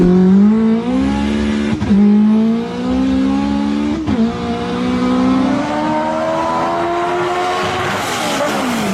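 A 1993 Honda Civic with a turbo engine making over 1,000 wheel horsepower, all-wheel drive and a dog box revs loud and close, a steady rising drone broken by two brief lifts of the throttle.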